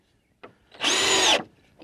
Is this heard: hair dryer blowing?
no